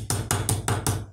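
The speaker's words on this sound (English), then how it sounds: "it's aluminium, it's very, very weak. All right, so we've got a big hammer" A big hammer strikes weak aluminium five times in a steady rhythm, each blow a sharp, ringing metallic clang, loud and close.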